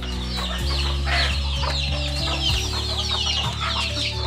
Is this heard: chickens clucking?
yes